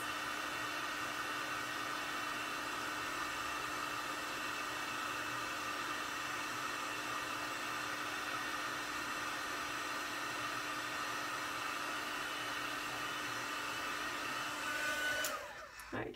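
A heat gun blows steadily at close range while heat embossing a handmade gate fold card, giving an even, airy hiss with a faint whine that continues unbroken for the whole span before a brief clatter at the end.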